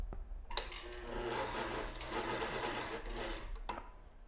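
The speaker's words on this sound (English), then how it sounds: "I'm just gonna sew a circle." A sewing machine stitches a circle in fabric, a steady whirring run of about three seconds, close and loud, with a soft start and stop.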